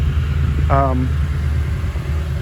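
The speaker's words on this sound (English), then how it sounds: "I like the special TRD Pro exhaust. It gives this a very unique sound" A 2021 Toyota Tundra TRD Pro with its TRD Pro exhaust idles steadily up close, a low, rumbling, deep exhaust drone with a brief voice-like sound rising over it.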